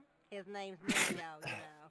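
A single sneeze from a character in the Broken Sword: Shadow of the Templars adventure game, sharp and loud, set amid in-game dialogue with talking before and after it.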